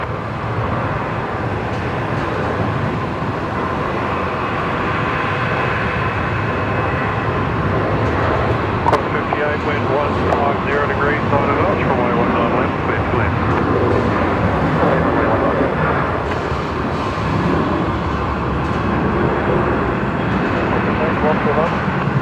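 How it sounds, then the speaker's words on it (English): A Velocity passenger jet begins its takeoff roll at Brisbane Airport, heard as a steady, loud, broadband roar from a distance that holds evenly throughout. "the next departure is actually just beginning their takeoff roll"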